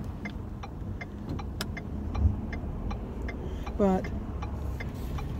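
A car rolling over a bumpy road on worn, bad tires, with steady low road and engine rumble, a thump around the middle and irregular rattling ticks throughout, under occasional talk.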